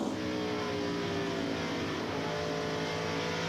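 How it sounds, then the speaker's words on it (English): NASCAR race cars at the 2003 Subway 400 roar at steady throttle, a sustained, fairly faint engine drone with harmonic whine holding throughout. "You can hear these guys with that throttle."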